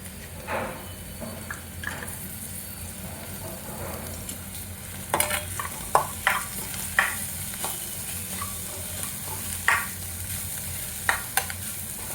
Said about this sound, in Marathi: झाकण ठेवून जरा परतून घेऊ मटार आपण.